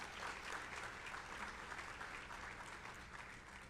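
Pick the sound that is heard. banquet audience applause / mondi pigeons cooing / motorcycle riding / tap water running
banquet audience applause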